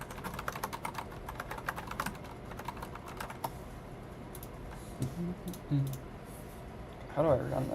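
Rapid clicking keystrokes on a computer keyboard during a coding session, dense and close at first, then thinning to scattered taps, with brief bits of low voice and other noises near the end.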